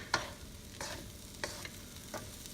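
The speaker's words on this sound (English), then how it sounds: "Then we'll give this a good mix again." Fried rice with fried egg being mixed in a pan, the spatula scraping in a few separate strokes over a faint, low sizzle, nearby and fairly quiet.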